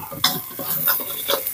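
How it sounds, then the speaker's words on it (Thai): Chili paste is stir-fried in a wok for Thai stir-fried long beans. Quick scraping stir strokes with a light crackle repeat several times, close and moderately loud, with no talking. "ผัดพริกหอมนะครับ"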